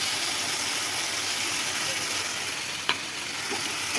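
Ginger and green chilli paste sizzles steadily in a hot pan of oil, a constant frying hiss with a brief clink near the end.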